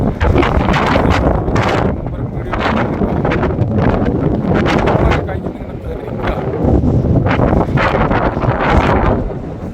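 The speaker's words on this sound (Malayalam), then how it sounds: "അതൊരു തണുത്ത കാറ്റ്." Strong cold wind at a windmill field in Attappadi buffets the microphone in loud, continuous roaring gusts that swell and ease without letting up.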